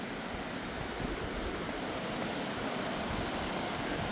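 River running high after a night of heavy rain, a steady, dense rushing roar that stays constant throughout, with no voices.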